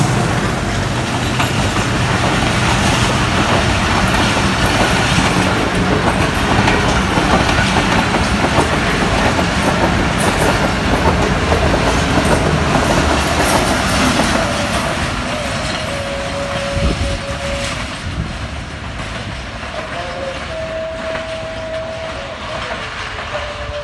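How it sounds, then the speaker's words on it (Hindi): Train arriving at Sohawa railway station, Pothwar: a loud, continuous rumble of rolling wagons with rhythmic wheel clatter and faint squeal, easing off slightly toward the end. "चेक करो जी ट्रेन आ गई है"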